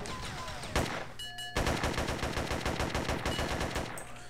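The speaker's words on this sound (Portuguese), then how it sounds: "Voltar a atirar agora," Machine-gun fire in the SA-MP COD5 server: a short burst, a brief pause, then a long run of rapid, evenly spaced shots, loud and close.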